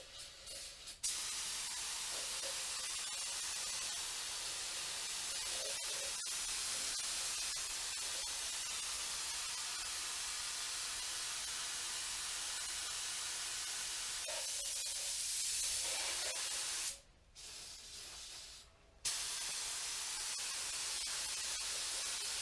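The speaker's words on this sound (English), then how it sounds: "I just spray it through this gun and it cleans it out amazing." A spray gun hisses in a steady, loud stream of air and carburetor cleaner, briefly stopping twice before resuming.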